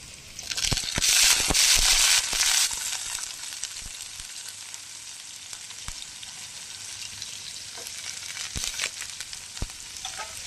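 Onion drops into hot oil for a sambar tempering, bursting into a loud, crackling sizzle that peaks in the first seconds and then settles into a steady, close frying hiss with occasional pops.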